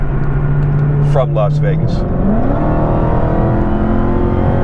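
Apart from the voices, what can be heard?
car engine rumbling and revving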